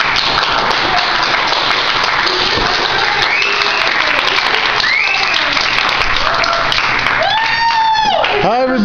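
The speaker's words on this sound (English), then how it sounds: "Applause!" Applause from a small gathering of people playing a Vanguard card game, dense continuous clapping that fills the clip, with some voices and a rising call near the end.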